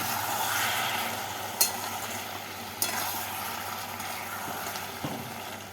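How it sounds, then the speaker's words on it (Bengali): Sugar and slit green chillies are stirred into a bottle gourd curry in a pan, with a steady sizzle running throughout. A few sharp utensil clinks land against the pot at intervals. "চিনি আর চেরা কাঁচা লঙ্কা দিয়ে নাড়াচাড়া করে নেব"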